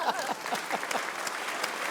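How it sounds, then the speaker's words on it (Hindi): Applause in a television cricket-discussion studio, a short round of clapping heard close with a voice speaking over it at the start. "सबसे पहले तालियां बजाएंगे"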